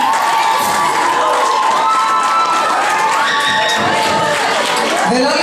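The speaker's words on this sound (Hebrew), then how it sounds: "אז בואו נקבל אותם במחיאות כפיים" An audience at a school play of Little Red Riding Hood applauds and cheers for the performers: loud continuous clapping mixed with excited children's shouts and whistles throughout.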